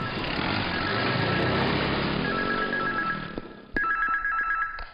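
A telephone rings in repeated electronic trills that grow clearer over a loud, dense rumble of engine-like noise, which fades before a sharp thump and further ringing.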